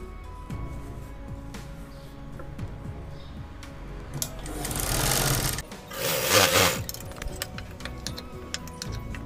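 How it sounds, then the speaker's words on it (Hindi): A sewing machine stitches a folded edge on a fabric face mask, with rapid ticking and clatter that swells into two louder, denser bursts of stitching near the middle, then settles back to lighter tapping. "इस तरफ भी हम सिल लेंगे फोल्ड करके।"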